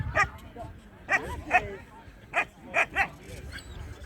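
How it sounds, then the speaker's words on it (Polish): Several short, sharp dog barks and yips sound in bursts at close range at a purebred dog show, spaced irregularly, with a faint voice underneath. "Patrzcie, jakie piękne psy."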